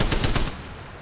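Rapid automatic gunfire in the mobile shooter Apex Legends Mobile, a close, loud burst of about four quick shots in the first half second, followed by fading reverberant tail.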